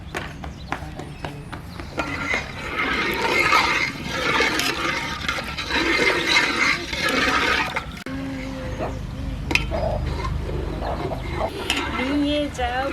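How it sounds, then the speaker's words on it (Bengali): Gobindobhog rice for a date-palm jaggery payesh pours and splashes into hot milk, a busy rattling, sloshing burst in the first half that settles into quieter liquid stirring and clinks. "দুধটা গরম হয়ে গেছে, গোবিন্দভোগ চালটা দিয়ে দেব দুধের ভেতর।"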